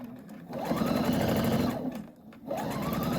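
A sewing machine runs through quilt fabric along a quarter-inch seam, whirring steadily in two long bursts with a brief slowdown between them, close and clear with no talk.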